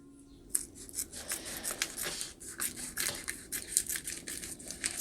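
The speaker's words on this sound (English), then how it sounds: "We can now neaten that up with a pair of scissors." Scissors trimming the sealed edge of a plastic bag for a DIY pocket first aid kit, close and quiet, with a run of crisp snips and crinkly plastic rustles at an uneven pace.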